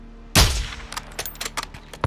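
One sharp, loud sniper rifle shot in Call of Duty Modern Warfare 2 with a booming crack, followed by a scatter of faint metallic clicks and pings from the game.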